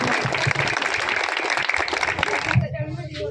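A crowd at a political gathering in India claps continuously in loud, dense applause, with a voice speaking over it, then the clapping cuts off abruptly near the end.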